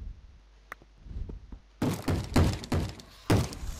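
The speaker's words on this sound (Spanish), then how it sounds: "Hay un zombie rompiendo puertas." A zombie in Terraria bashing at a door: a run of heavy, hollow thuds, four or five blows in an uneven rhythm after a quieter lead-in with a few faint knocks, fairly close, with no speech.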